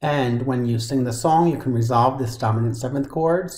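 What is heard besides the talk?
None of the usual background noises is heard.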